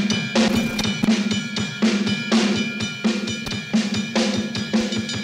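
A drum kit plays a fast paradiddle variation with double bass drum in a progressive hard rock style from 1989. Quick bass drum strokes run steadily under busy, bright cymbal and snare hits, loud and close, with no talking.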